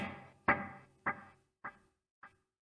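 A single electric guitar strum through a dotted eighth note delay, its repeats echoing four times in a steady rhythm, each quieter than the last until they die away.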